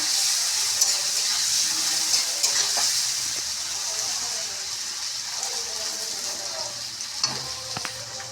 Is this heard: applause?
no